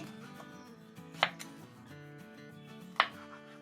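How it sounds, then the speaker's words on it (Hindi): A knife cuts mango into cubes on a board, with two distinct sharp chops about two seconds apart over faint tonal background music, close and crisp, with no talking. "और अब इसके क्यूब बना लेंगे"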